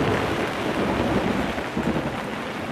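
Steady rain falling in a forest as spring meltwater rises, a dense continuous hiss of drops on leaves and ground with a low rumble underneath, close and even throughout with no voices.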